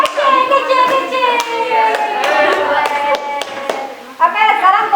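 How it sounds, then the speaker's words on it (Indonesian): A group of students in a classroom lesson claps for group one during their team cheer, sharp rhythmic hand claps ringing out over children chanting and calling in unison, with a brief lull before voices and claps pick up again. "Tepuk tangan kelompok satu."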